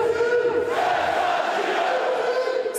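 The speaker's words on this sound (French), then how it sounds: "Sous les acclamations de la foule" A large crowd of football supporters cheers and chants loudly outdoors at a city hall, celebrating a championship win with a dense, sustained roar of voices.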